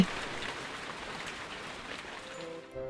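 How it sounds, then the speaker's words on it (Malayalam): Heavy rain pours steadily and close for nearly three seconds in a children's story about a crow and a sparrow, cutting off abruptly near the end as a soft musical tone takes over. "ഭയങ്കര മഴയാ,"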